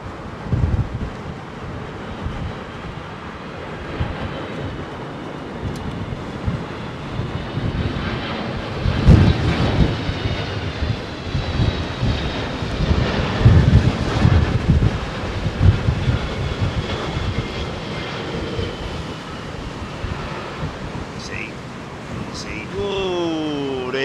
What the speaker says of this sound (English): So this is a United